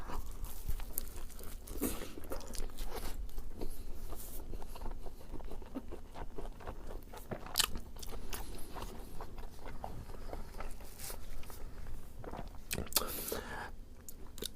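Close-up crunching and chewing of a Philly cheesesteak with melted American cheese, steady soft mouth noises and small crunches throughout, with faint whispery breaths and no clear talk.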